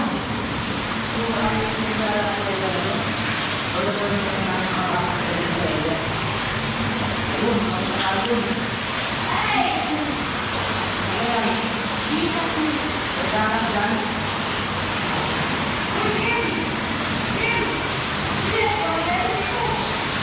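Overflowing water rushes continuously in a broad, steady roar close by, holding an even level throughout with no breaks.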